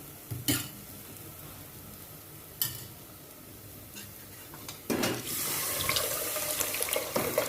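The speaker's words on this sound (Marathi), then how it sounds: "आता आपण ह्यामध्ये डाळीचं पाणी काढून घेतलेलं आहे ते घालून घेऊया" A few soft clinks, then lentil cooking water pours into a hot pan, hissing and bubbling steadily for the last couple of seconds.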